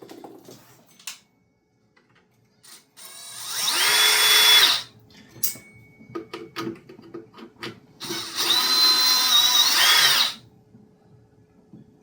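A power driver whirs in two sustained bursts, backing thread-forming screws out of a Mackie 1202-VLZ Pro mixer, with small clicks and handling noises between the runs and no speech.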